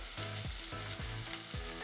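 Steady sizzling and crackling of mixed vegetables stir-frying in a hot pan, with a few soft scraping pushes across the surface, close and continuous.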